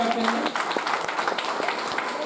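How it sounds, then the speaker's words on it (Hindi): Audience applause at a religious festival gathering in Paris, a short burst of clapping mixed with some background voices, fairly loud and close. "तो हम सब युवक युवती मंडलों को बहुत बहुत तालियों से उनका धन्यवाद करते हैं।"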